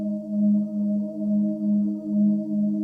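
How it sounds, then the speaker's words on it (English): A swaying sine synth layer with a choir pad plays in isolation, a smooth sustained tone whose level swells and dips in a slow, regular rhythm, clear and steady without talk. "In this track specifically, we've got this swaying sine here and a choir"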